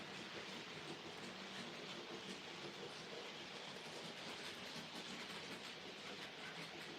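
Model railway locomotives, Blink Bonnie and the Terrier, run on a double-track main line, giving a faint, continuous rolling rumble with soft clattering.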